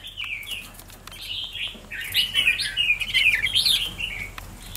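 Songbirds chirp during bird trapping in a farm field, with quick bright twittering calls that begin sparsely and then grow into a denser, louder run of overlapping chirps, and some wing flutter. No voices are heard.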